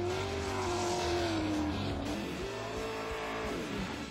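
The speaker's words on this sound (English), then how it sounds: "it's got a small block Chevrolet V8, similar to a NASCAR motor, a little over 700 horsepower" 1999 Chevrolet Monte Carlo race car with a small-block Chevrolet V8 of over 700 horsepower at the Pikes Peak hill climb, a loud sustained engine roar with pitch rising and falling through gear changes, distant and steady.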